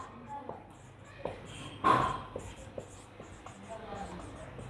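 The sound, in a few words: writing out a maths solution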